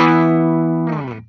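A chord rings out from a 2014 Gibson CC 28 electric guitar on a clean tone, loud and sustained, then shifts to a brighter note before fading quickly, with no talking.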